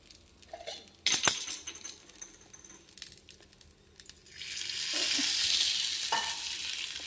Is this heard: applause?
no